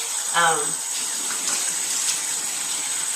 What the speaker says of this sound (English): You can hear me rinsing, obviously.